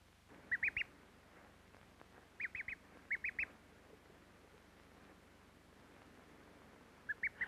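Soft, high peeping calls come in short bursts of two or three, spaced apart, over a quiet hiss of room noise.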